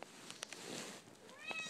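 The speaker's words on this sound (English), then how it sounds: "that's my cat in the background." A pet cat meows faintly in the background with a short rising call near the end, amid light clicks and indoor room noise.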